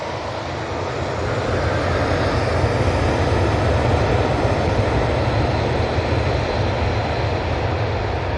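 An airliner departs Manchester Airport bound for Tivat, giving a steady, loud, broadband engine roar that swells in the first second and then holds constant without voices.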